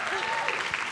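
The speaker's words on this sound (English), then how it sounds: "Round of applause." Audience applause for a volunteer coming up on stage at a live talk in London, a dense steady wash of clapping with a voice briefly audible over it.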